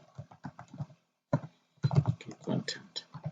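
Keys clacking on a computer keyboard in quick irregular bursts, close and clear, with a short pause before a denser run of typing; nobody speaks.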